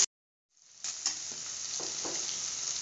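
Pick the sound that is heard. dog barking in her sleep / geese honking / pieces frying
pieces frying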